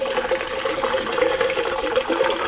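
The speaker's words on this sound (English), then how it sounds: "It sounds like it's pouring on the ground, but it's not." Fuel pours steadily into an empty metal tank of a 1979 Mustang, a continuous splashing gush with a resonant tone, fairly loud and close.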